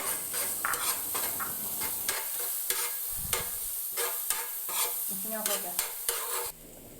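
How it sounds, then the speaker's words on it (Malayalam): Finely chopped onions sizzle and fry in a pan, with steady hissing and repeated sharp scrapes and clinks of a utensil stirring against the metal, close and fairly loud, no voices. "ഇനി ആ പാനിലോട്ട് തന്നെ കുറച്ച് സവാള ചെറുതായിട്ട് അരിഞ്ഞതൊന്ന് എടുത്തിട്ടിട്ട് ഒന്ന് മൂപ്പിച്ചെടുക്കുന്നുണ്ട്"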